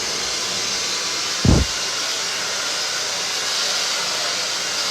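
A blow dryer runs steadily during a short bob haircut in a salon, a constant loud airy whoosh throughout, broken only by one brief low thump partway through.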